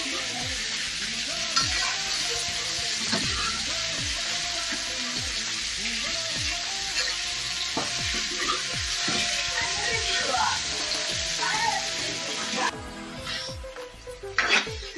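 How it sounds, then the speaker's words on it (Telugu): Tomatoes fry in oil in a pan for mushroom curry, a continuous bright sizzle with regular spatula scrapes and stirring knocks, close and steady. "టమోటాలు బాగా సాఫ్ట్ అయ్యేదాకా ఇలానే ఫ్రై చేసుకోవాలి"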